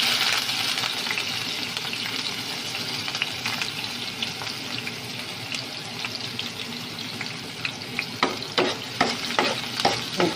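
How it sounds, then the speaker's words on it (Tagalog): Garlic frying in hot oil in a home kitchen, a continuous crackling sizzle with stirring scrapes that grow louder and more rhythmic toward the end. "Lagay na natin yung ating bawang. Ayan. Mainit na yung ating mantika."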